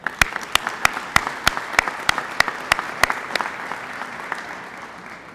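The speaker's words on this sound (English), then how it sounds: "Let's give them one more round of applause." A crowd at a school ribbon cutting ceremony gives a round of applause, steady clapping with sharp individual claps standing out, gradually thinning toward the end.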